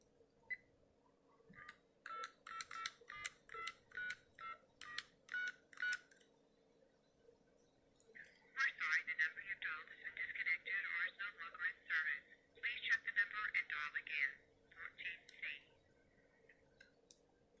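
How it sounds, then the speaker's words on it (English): A telephone recording plays back a call to a disconnected number: quick rows of keypad dialing tones, then a long stretch of rapid beeping tone bursts, slightly distant over a faint steady hum. "I actually recorded myself dialing that number, and you can listen to the recording that it's disconnected"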